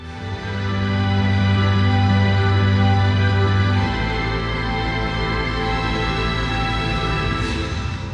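Music plays loud and full through a large array of Samsung Galaxy Home smart speakers at a launch event, a sustained bass-heavy wall of sound that swells in and holds steady throughout.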